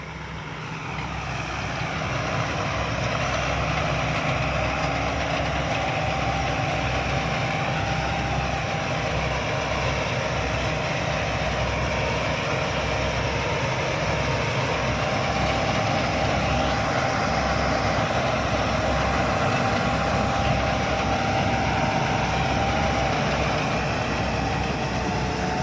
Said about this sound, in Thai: ดูรถเกี่ยวนวดข้าวกันเพลินๆนะครับ